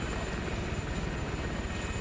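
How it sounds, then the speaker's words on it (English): Helicopter rotor and engine drone in a military video game, a steady loud whir filling the whole clip with no talk over it. "And the helicopter's firing hellfires back at the autocans,"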